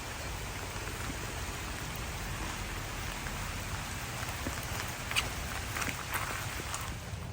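Heavy rain pours down behind a house in Laos, a dense, steady wash of drops hitting surfaces all around, with a few sharper splashes breaking through the constant roar.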